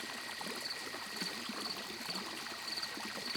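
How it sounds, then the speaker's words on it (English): Water falls steadily and fairly heavily from the mouth of a second-floor drain onto a balcony below, making a continuous trickling splash. The sound is close, even and unbroken, with no voices. "Water began to fall through the mouth of the drain on the second floor"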